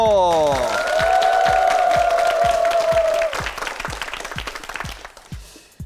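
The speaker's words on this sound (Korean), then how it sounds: "박수 보내주세요." A studio audience at a Korean TV quiz show claps together in a steady rhythm. A sustained electronic musical tone plays over the start of the applause, and the claps then thin out and fade.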